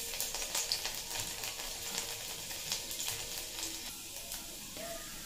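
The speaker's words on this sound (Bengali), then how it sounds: "এই তেলে ফোড়নে দিয়ে দিচ্ছি অল্প কালো জিরে, দিয়ে দিচ্ছি কুচিয়ে রাখা রসুন," Black cumin seeds and chopped garlic sizzling in hot mustard oil as a tempering for a spinach dish, a soft steady crackle with scattered small pops and stirring taps.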